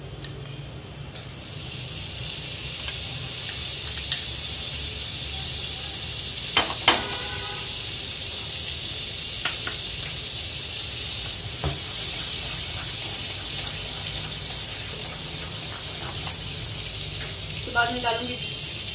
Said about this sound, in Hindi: कढ़ाई गरम कर ली है, अब इसमें सबसे पहले मैं डालूंगी बटर